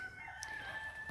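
A brief rooster crow rings out at a distance, faint and thin over quiet background noise.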